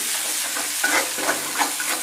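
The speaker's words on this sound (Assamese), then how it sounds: "এনেধৰণে মছলাখিনি 3 মিনিটমান সময় আমি ভাজি ল'ম, জ্বলি নোযোৱালৈকে।" Steady sizzle of spices frying in a hot pan for about three minutes, with a few soft scraping stirs breaking through the crackle.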